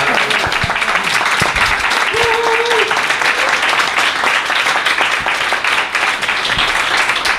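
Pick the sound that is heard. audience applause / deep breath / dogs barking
audience applause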